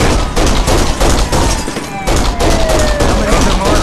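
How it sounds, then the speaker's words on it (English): Rapid gunfire in the shooter game Kane & Lynch: Dead Men, loud bursts of automatic fire cracking in quick succession with a brief lull in the middle, under a busy combat mix. "Just keep shooting and stay calm."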